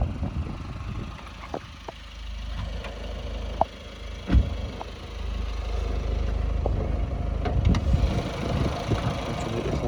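A 2017 Ford Fiesta Trend Plus engine idles with a steady low rumble close by. A few sharp clicks and knocks sit on top of the running engine.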